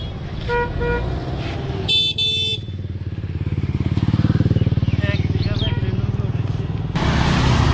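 Motorcycles and cars pass along a village road, engines droning steadily close by with a couple of short horn toots, under a voice talking.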